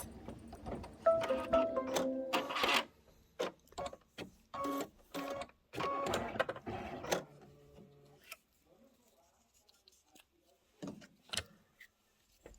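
Embroidery machine stitching the decorative outline on a Kimberbell Cuties table topper design, heard as bursts of rapid mechanical stitching that start and stop, loud up close, then fading to quiet with a few short clicks.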